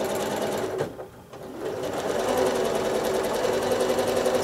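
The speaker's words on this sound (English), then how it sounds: "So here I'm just randomly stitching in all different directions" A sewing machine runs steadily, its fast even needle rhythm close and clear, stopping briefly for a moment before starting up again and stitching on.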